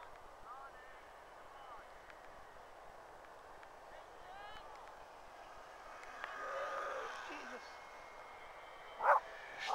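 A dog barks a few times from somewhere behind, faint and distant, with a couple of short yips. A louder burst of barking comes near the end, over outdoor ambience and wind near a small aircraft.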